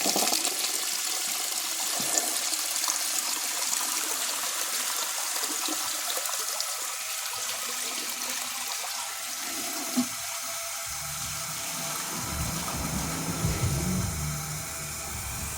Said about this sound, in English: now let's give it a flush and see how it does on a washcloth and a grocery bag